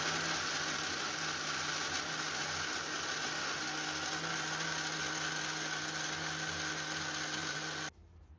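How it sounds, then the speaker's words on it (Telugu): A kitchen mixer grinder whirs steadily while grinding onions and spices for a village-style fish curry, a constant motor whine that stops abruptly at the end. "ఇప్పుడు మనం పక్కన కట్ చేసి పెట్టుకున్న ఆనియన్స్ అండ్ మసాలాలు మిక్సీలో వేసుకుని మెత్తగా గ్రైండ్ చేసుకుందాము"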